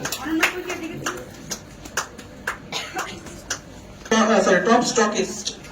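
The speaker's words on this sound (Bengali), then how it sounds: "আপনাদের সবাইকে ধন্যবাদ হাততালি দেওয়ার জন্য" An audience at a stage event applauds. The clapping is light and scattered under a speaker's voice at first, then thickens into fuller applause near the end.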